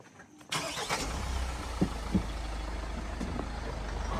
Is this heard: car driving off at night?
yes